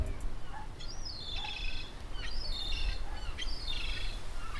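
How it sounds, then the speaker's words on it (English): A seagull gives three rising-and-falling whistled calls, evenly spaced, over a low steady outdoor background. "that seagull is wolf whistling me"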